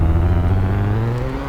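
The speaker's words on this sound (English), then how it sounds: "This car might be a little loud" A car engine in Garry's Mod drones steadily with a low, rumbling hum, its pitch slowly drifting lower, loud and close with no talking.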